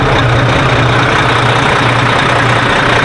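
A Volvo 12.8 liter diesel idles on a 2016 Volvo 9700 highway coach, a loud, steady low rumble with an even, smooth drone and no voices.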